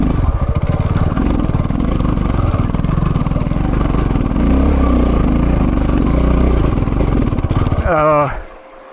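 A KTM 690 Enduro motorcycle climbs a steep off-road hill, its engine loud and close with a steady throbbing drone. The engine strains, then cuts out abruptly near the end.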